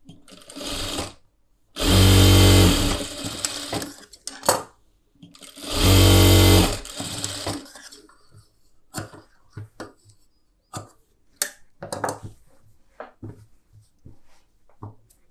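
Two loud, steady bursts of a sewing machine stitching a blouse shoulder, each running a couple of seconds up close, followed by lighter, scattered clicks and fabric handling noises.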